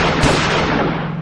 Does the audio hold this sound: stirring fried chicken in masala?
no